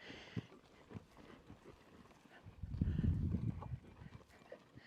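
A horse backing up under saddle while the rider uses the reins, its hooves giving soft, irregular thuds and shuffles on the ground that build to a louder cluster of steps midway, fairly close, with no talking.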